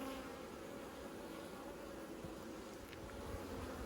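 Honey bees buzz at an open hive being inspected before almond pollination, a steady low hum that stays even and fairly quiet throughout.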